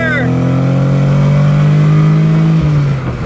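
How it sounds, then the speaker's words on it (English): A close, loud Nissan 300ZX Z32 engine revs and holds a high pitch before easing off, with a brief voice at the start. "the 300ZX is together and it's running"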